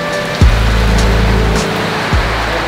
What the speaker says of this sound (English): Look at how much it's raining.